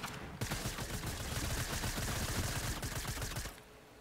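Video game gunfire rattles in a dense, rapid burst lasting about three seconds, loud and close, then drops away to quieter background.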